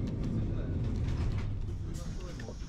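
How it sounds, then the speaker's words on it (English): Lisbon's Tram 28 rolling up toward a hilltop stop, a low rumbling rattle of wheels and car body running continuously, with a voice talking over it. "About 12 minutes after its departure point in Martim Moniz, Tram 28 reaches this hilltop stop."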